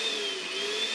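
A Kenwood Handmix Lite electric hand mixer runs at turbo speed, a steady high-pitched whining hum that stays close and even for a brief moment.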